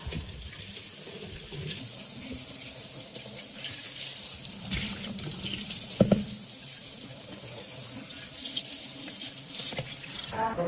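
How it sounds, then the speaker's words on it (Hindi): Water from a motor pump runs steadily into a clay matka, a continuous splashing stream with a few small knocks from the pot. "अब ये मटका भरना है मुझे। तो मैंने मोटर चालू करवा दी है"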